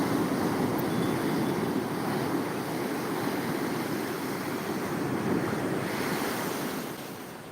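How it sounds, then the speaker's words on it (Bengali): Ocean surf at Shankarpur beach surges and roars steadily, a broad continuous wash of breaking waves with wind buffeting the microphone, easing slightly at the end. "ঢেউ উঠছে"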